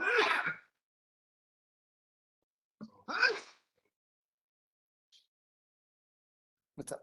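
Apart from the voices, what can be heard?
sneeze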